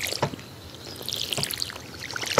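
Watering freshly planted crops in the Stardew Valley video game: a short splashing pour, near and moderately loud, with a few brief watery bursts at intervals and game chimes over it.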